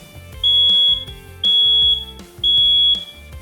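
A smoke detector sounds its alarm with three loud, piercing, evenly spaced beeps, each lasting about half a second, alone with no other sounds.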